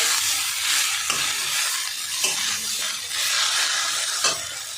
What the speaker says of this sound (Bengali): একটু মশলার সঙ্গে শাকটা কষাবো